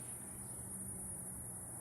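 Cicadas drone outdoors around a house in Santee, a continuous high-pitched buzzing that stays steady and fairly faint throughout, with no voices over it.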